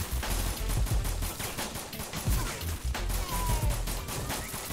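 Uzi submachine gun fire in the PS2 shooter 50 Cent: Bulletproof, with loud rapid bursts of automatic shots mixed with other gunfire and impacts, dense and continuous.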